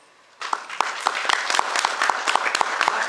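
A theatre audience breaks into applause after a quiet start, with steady, close claps and sharp individual hits standing out in the mass.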